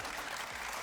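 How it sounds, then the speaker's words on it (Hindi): Studio audience applause during an entertainment talk show, a steady wash of clapping at moderate level throughout the brief moment with no voices. "तालियां बजाओ मेरे लिए।"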